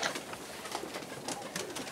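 Racing pigeon giving soft, low cooing close by in a loft, a steady murmur with no speech.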